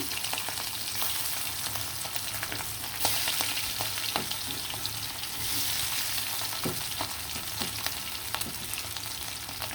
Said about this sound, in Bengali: তেলটা গরম হয়ে আসার পর ইলিশ মাছগুলো দিয়ে দিলাম